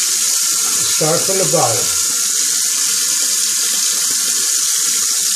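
A tap runs steadily throughout while a man shaves and rinses, a constant close hiss of flowing water with a brief spoken phrase over it near the start.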